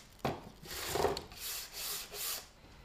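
Flaking old paint is scraped and sanded off a wooden stool with a paint scraper and sandpaper: a series of close, rasping back-and-forth strokes with a steady rhythm and no voices.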